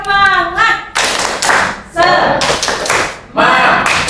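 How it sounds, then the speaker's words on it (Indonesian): Indonesian classroom students performing the 'tepuk semangat' rhythmic clapping chant, loud bursts of group clapping and shouted voices in repeated rhythmic phrases, close and lively. "Sekali lagi, tepuk semangat."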